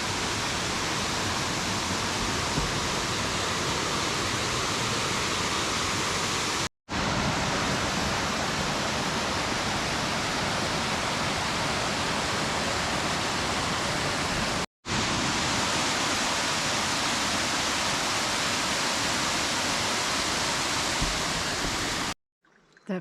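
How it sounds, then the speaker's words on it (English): Mountain cascades beside the Appalachian Trail in the Kinsman range of New Hampshire, a steady broad rush of falling water heard close and loud throughout, with two very brief cuts. "The trail has been following these cascades, and it's actually really pretty."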